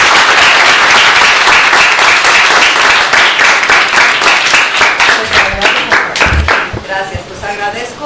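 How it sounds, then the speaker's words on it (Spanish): An audience applauds Dra. Miyuki Takahashi at a public-health talk on sewage, loud dense clapping that thins out and fades toward the end, where a voice briefly comes in. "Un aplauso para ella, por favor."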